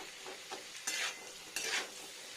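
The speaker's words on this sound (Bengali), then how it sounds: "ফ্রেন্ডস মশলাটা পুরো ভাজা গেছে" Masala spices for a vegetarian potol (pointed gourd) gravy fry in a pan with a soft, steady sizzle, broken by a few brisk spatula scraping strokes, quiet and close.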